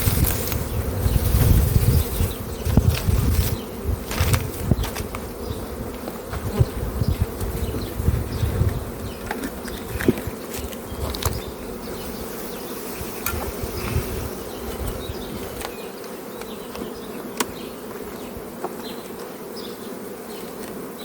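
Honey bees buzz steadily at a hive in a Ukrainian apiary. The swarm drone is continuous and close, louder over the first half and easing slightly later, with no voices.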